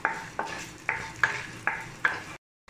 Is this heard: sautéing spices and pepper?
yes